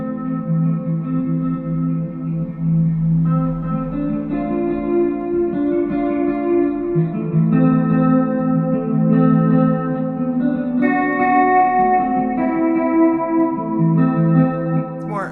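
Electric guitar plays sustained atmospheric textures soaked in heavy delay, reverb and modulation, with chords and notes blurring and trailing into one another, loud and continuous.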